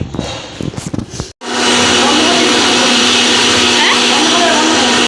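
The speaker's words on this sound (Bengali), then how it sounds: "এবার ব্লেন্ড করব" A blender grinding ginger, garlic, chilli, cashews, poppy seeds, yogurt and onion into a paste, starting abruptly after a brief moment of talk and then running as a loud, steady, close whir.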